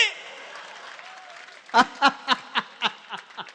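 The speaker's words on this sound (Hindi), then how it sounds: "तालियां फिर भी कमजोर है" Audience at a Hindi kavi sammelan poetry gathering giving a thin round of applause, a handful of distinct, fairly loud claps in slow succession after a stretch of speech.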